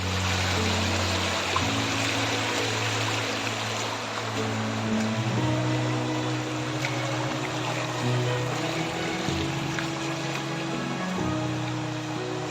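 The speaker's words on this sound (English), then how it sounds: "The burble sound of the stream is really soothing." Stream cascading past a hidden waterfall at Saisel Punji, a steady rushing, burbling wash of water close by, continuous and fairly loud with no voices.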